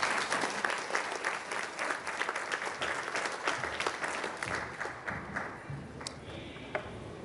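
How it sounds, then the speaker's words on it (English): Audience applause at a media-industry diversity panel session, a dense, steady clapping from a large crowd that runs the whole stretch without a break, fairly loud and with no voices over it. "it's all right to give her a round of applause"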